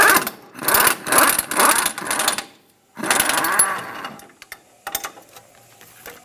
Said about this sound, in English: Remove the strut bolt.